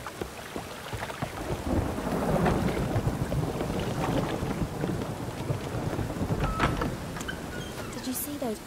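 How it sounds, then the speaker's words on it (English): Steady rainfall in the fantasy role-playing game The Witcher 3 patters continuously with wind-like rushing and a few sharper in-game sounds toward the end, at moderate level throughout. "It's raining again."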